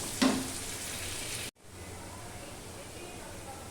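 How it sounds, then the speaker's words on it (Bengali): Onions fry in hot oil for a bony bhetki fish dish, a soft, continuous sizzle near the pan, broken by a brief cut before the frying hiss resumes. "আমি পেঁয়াজগুলো ভেজে নেব। আগে পেঁয়াজটা ভেজে সরিয়ে রাখবো।"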